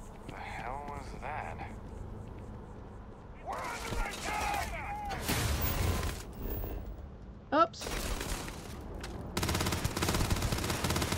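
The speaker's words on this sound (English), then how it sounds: "Who's shooting at me?" Gunfire in a stealth video game comes in scattered bursts of shots amid busy game noise and effects, with a player talking over parts of it.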